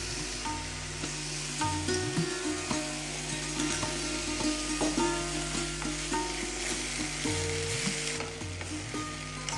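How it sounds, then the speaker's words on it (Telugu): Tomato paste sizzles and fries steadily in a pan over browned onion paste, a continuous loud crackle with occasional stirring clinks and scrapes, no voices. "ఇప్పుడు టమాటో పేస్ట్ వేసుకుందామండి."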